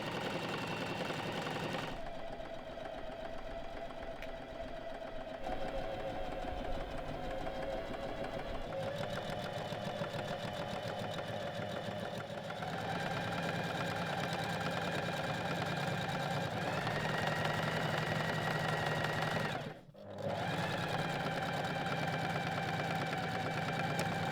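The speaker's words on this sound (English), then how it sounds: "Finish the side seam with a zigzag stitch or your serger, sewing the pocket in place" A sewing machine or serger runs steadily, finishing a robe's side seam with a zigzag stitch and sewing the pocket in place, a continuous close mechanical whir with a brief pause near the end.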